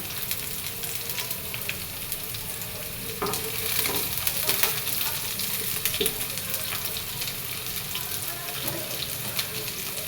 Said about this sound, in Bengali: ডাটা শাক ভাজি করছি সরিষার তেল সরষের তেল দিয়ে দিলাম